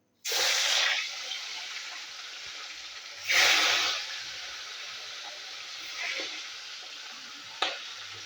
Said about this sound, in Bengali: মাছগুলো ভাজছি আমি